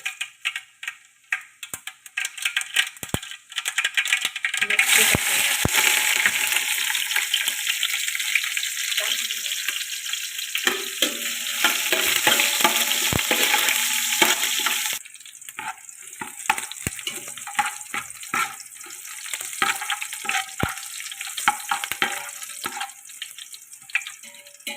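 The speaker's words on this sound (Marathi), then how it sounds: "मिरची अशी कडक करून घ्यायची तेलामध्ये" Green chilies fry in hot oil for a tempering in a pan, a loud, steady sizzle crackling throughout with scattered pops, easing slightly partway through.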